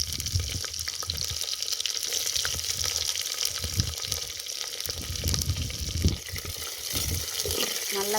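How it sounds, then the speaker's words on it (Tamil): Shallots dropped into hot oil with curry leaves for a mutton curry, giving a steady broadband sizzle and crackle that runs throughout at moderate loudness, with occasional sharper spits. "இப்போ சின்ன வெங்காயம் சேர்த்துக்கிறேன்."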